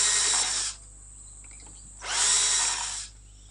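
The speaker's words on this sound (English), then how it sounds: "Using the 4mm drill, we're going to drill 5 holes just above the rear axle." A 4 mm bit drills holes just above the rear axle of a vehicle during a retro kit fitting, two separate bursts of steady high-pitched whirring separated by a quiet pause, close and fairly loud.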